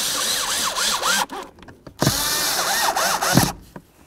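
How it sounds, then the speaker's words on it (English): A power driver whirs in short bursts as bolts are started and snugged on a blower motor resistor in a 2002-2008 Dodge RAM 1500, several close, loud runs separated by brief pauses. "Now we'll just start in both of our bolts and then we'll snug them up."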